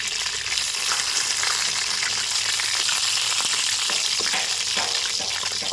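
Steady, loud sizzling of fish frying in hot oil, continuous crackle with occasional pops, no voices.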